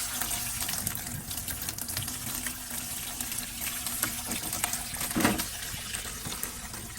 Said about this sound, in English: And now it's time to strain my cucumbers.